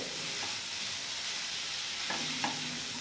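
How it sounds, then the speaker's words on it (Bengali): Bitter gourd frying in oil in a pan, giving a steady, close hiss of sizzling throughout, with a couple of brief stirring scrapes near the end and no talk. "এভাবে আমি কিন্তু একটু ভেজে নিচ্ছি করলাটাকে আগে।"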